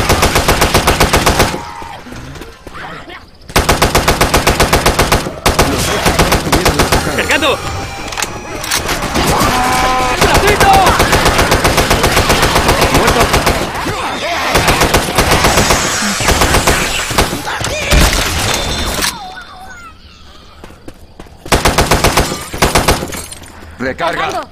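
Loud, sustained automatic gunfire in a modded Left 4 Dead match comes in long rattling bursts with brief gaps, mixed with shattering and crashing sounds, with voices at times.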